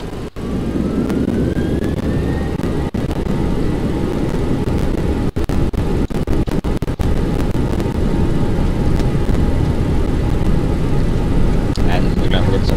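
A Boeing 737-800's engines spool up for takeoff in the X-Plane 11 flight simulator, giving a loud, steady, broadband roar that holds throughout with a rising tonal whine and brief clicks.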